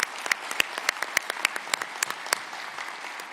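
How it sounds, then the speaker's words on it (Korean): Audience applause at a Busan citizens' meeting with the president, a moderate wash of clapping with distinct individual claps popping out near the microphone in a loose, uneven rhythm. "박수 한번 해주세요."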